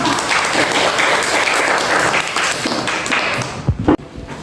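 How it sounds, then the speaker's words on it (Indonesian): A classroom of students applauds a presenting group, steady dense clapping for about three and a half seconds, then tapering off into a few scattered claps and small knocks. "aplaus dulu untuk kelompok 2"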